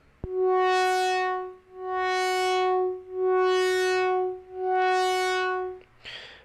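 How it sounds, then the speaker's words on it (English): Under a triangle-wave LFO, a synth tone rises and falls smoothly in volume four times, each swell gently brightening and then softening in a steady, even rhythm, close and clear. "We can also have a triangle waveform, which would make it sound like this."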